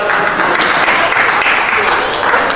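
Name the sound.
audience applause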